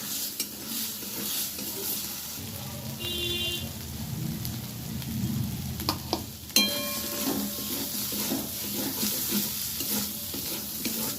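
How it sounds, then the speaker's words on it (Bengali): Spice paste with turmeric frying and being stirred in a pan, a steady crackling sizzle with scraping stirring strokes and a few sharp clinks of the utensil against the pan. "আমি এবারে মশলাটা খুব ভালোভাবে ভেজে নেব।"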